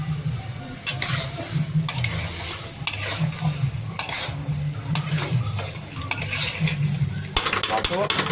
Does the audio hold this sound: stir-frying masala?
yes